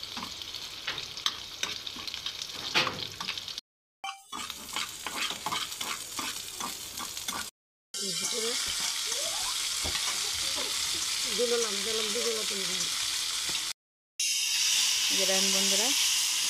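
Leafy greens that were already boiled sizzle steadily in a pan as they are fried, with a utensil repeatedly stirring and scraping them up close; a voice talks intermittently over the cooking.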